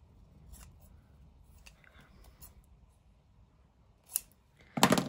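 Scissors trim the edges off paper for a Tim Holtz-style cluster tab, giving a few faint snips early on and then two sharper, louder cuts near the end in a quiet room.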